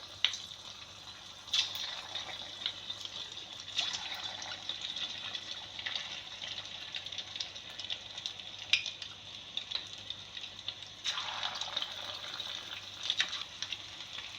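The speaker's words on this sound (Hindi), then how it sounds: "ऑयल हो गया है गरम और अब मैं फ़िश को करती हूँ फ्राई। ये एक एक करके हमें इसमें डालना है।" Pieces of fish fry in hot oil over medium heat, giving a steady close sizzle that swells in bursts as more pieces are added, with no talking.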